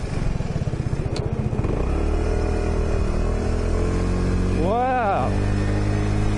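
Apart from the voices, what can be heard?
scooter engine while riding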